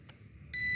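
A drone remote controller pairing with an S5S or R103 drone gives a single steady electronic beep, loud and close, lasting about a quarter second after a quiet stretch, with no one talking.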